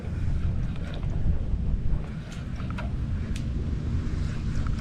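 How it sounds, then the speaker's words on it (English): Wind gusts across open water on a boat during winter trout fishing in a harbor, a steady low rumble and buffeting of microphone noise, loud and continuous throughout. "That wind is picking up."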